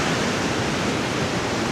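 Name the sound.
ocean waves at a beach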